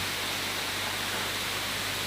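Steady broadband rush of a waterfall pouring into a pool about 2 meters deep at the Sungai Mudal ecotourism site in Kulon Progo, constant and even with no voices.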